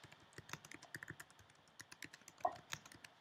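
Quick, irregular clicks of fingers typing on a computer keyboard, close and quiet, with no one speaking.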